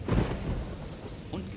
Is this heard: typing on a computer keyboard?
no